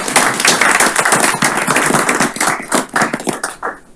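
A round of applause in a county council meeting, a small group clapping for several seconds, dense at first and then thinning out and fading.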